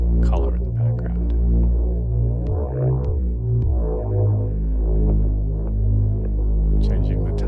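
Bass tones run through the Moon Echo delay plug-in, with feedback repeats stacking into a dense, throbbing hum and the pitch bending and wobbling as the delay time shifts, a sustained, loud texture with no voices.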